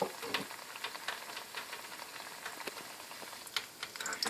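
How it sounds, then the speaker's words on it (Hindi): Potato and egg cutlets shallow-fry in moderately hot oil with soft, scattered crackles and light sizzling pops, fairly faint and continuous throughout. "ये अब तेल थोड़ा सा गर्म हुआ है, बहुत ज़्यादा भी नहीं होना चाहिए, क्योंकि फिर डालते ही जल जाते हैं ना"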